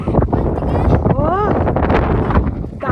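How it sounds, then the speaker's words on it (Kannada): Strong wind gusts buffet the microphone on a hilltop at Mandalpatti, a loud, rough rumble throughout, with people talking close by over it. "ಗಾಳಿನೇ ಗಟ್ಟಿ ಹತ್ತು."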